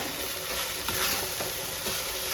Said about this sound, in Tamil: தேங்காய் அவடு எல்லாமே ஒன்றா சேர்ந்து ஒரு கலர் கிளறி விட்டுருங்க